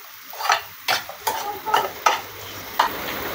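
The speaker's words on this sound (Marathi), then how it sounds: "खोबरं, लसूण, जिरा आणि आलं हे व्यवस्थित मिक्स करून परतवून घ्यायचंय।" A paste of roasted coconut, garlic, cumin and ginger fries in oil for a Khandeshi shev bhaji curry, with six distinct scraping stir strokes over a soft sizzle, close and fairly loud.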